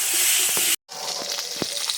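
Tengra catfish frying in oil under a lid gives a close, steady sizzle with a few faint pops, cut by a brief silent gap.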